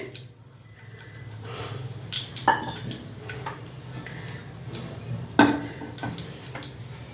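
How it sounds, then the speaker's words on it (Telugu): About three spoons of cooking oil go into a pan on the stove, with two distinct metallic spoon clinks and faint trickling over a low kitchen hum, close and without talking. "ఆయిల్ వేస్తాను, ఒక 3 స్పూన్స్ అండి."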